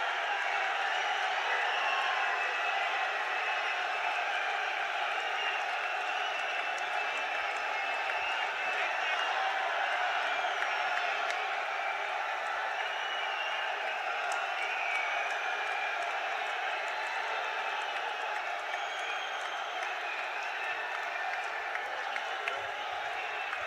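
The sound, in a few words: crowd applauding to welcome Modi at rally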